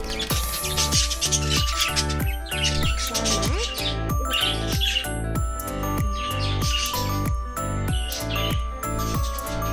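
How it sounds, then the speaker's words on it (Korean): Parrots at a pension aviary in Goseong, South Korea, chirp and call repeatedly and loudly close by, in steady bursts over a rhythmic background. "여기는 앵무새들이 있어요."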